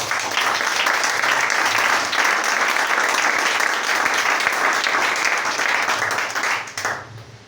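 Church congregation applauding together in a loud, dense burst of clapping that holds steady for several seconds and then tapers off near the end.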